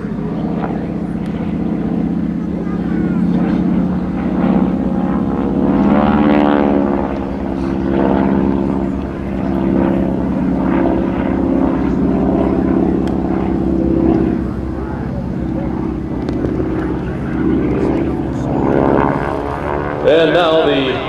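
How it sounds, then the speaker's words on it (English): T-6 Texan propeller aircraft fly a crossover maneuver at an airshow, a loud continuous droning engine roar that swells and shifts in pitch as they pass, with an announcer talking over it. "Keep your eye on the aircraft. The crossover brake."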